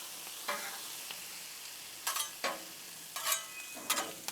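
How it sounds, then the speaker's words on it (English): Peppers and onions sizzle softly on a Blackstone griddle with cheesesteak seasoning, while a spatula scrapes and stirs in several short bursts over the quiet frying hiss. "there's nothing like some peppers and onions cooking up on the Blackstone"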